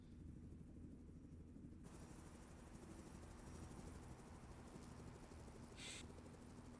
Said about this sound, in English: There's a helicopter around this truck somewhere.